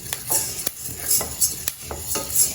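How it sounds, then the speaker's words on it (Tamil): Horse gram crackles as it roasts in a hot pan, scattered sharp pops spaced irregularly over a faint hiss, with stirring scrapes in between, close and clear with no voices. "இது மாதிரி நல்லா படப்படன்னு பொரிஞ்சு வாசனை வரணும்"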